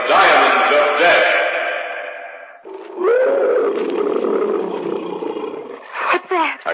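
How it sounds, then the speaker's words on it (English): A tiger somewhere in the jungle lets out a long, loud, echoing roar, then a second drawn-out rumbling roar, in a radio drama sound effect with a sharp accent at the end. "A cat. Probably a tiger somewhere in the jungle."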